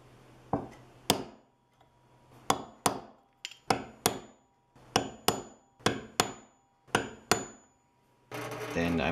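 A center punch is hammered into square metal bars to mark drill holes: about eleven sharp, ringing metallic strikes, close and loud, in uneven pairs and singles with short pauses between.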